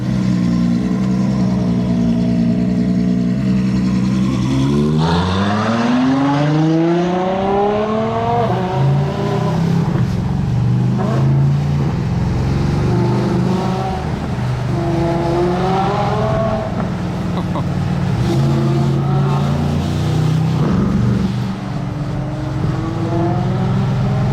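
Ferrari 812 Competizione V12 fitted with a Brillsteel exhaust, pulling hard through several rising revs and gear changes, a loud, close howl that repeatedly climbs and drops over a steady roar, with no talking.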